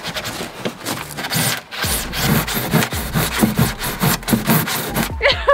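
Hand saw cutting wood while building a shelter for stray cats, a steady rhythmic back-and-forth rasp of strokes, close and loud, with brief French talk near the end.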